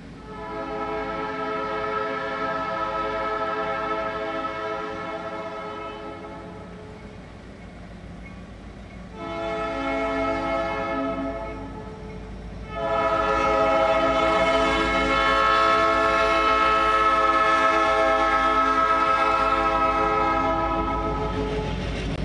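HESR locomotive 810 passes close by on a freight job, sounding its horn in long loud blasts separated by a short pause, with engine rumble beneath and the final blast the longest and loudest.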